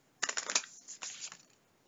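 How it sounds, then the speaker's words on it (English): A deck of game cards for the board game Kingdom Death Monster is shuffled in two quick crisp riffles, close and brief, with no talking. "now we shuffle a lot of cards"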